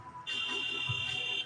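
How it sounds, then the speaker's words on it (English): A basketball arena buzzer at a women's college tournament game between Santa Clara and San Francisco starts abruptly after a brief pause and holds a loud, steady electronic tone to the end over faint crowd noise. "Buzzer sounds, and we're ready to get the second half underway."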